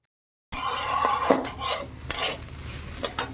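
Gobindobhog rice frying in ghee as a spoon stirs it, giving a close, steady sizzle broken by scraping strokes against the pan, with no talking.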